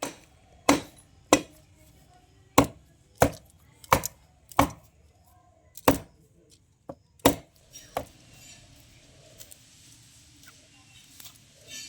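Knife chops through palm fruit seeds on a board while preparing payesh, about ten sharp, separate thuds at uneven intervals, close and fairly loud, then lighter handling noises.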